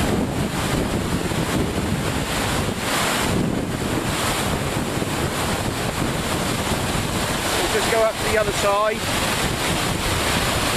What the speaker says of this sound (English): Incredible power, amazing amount of water.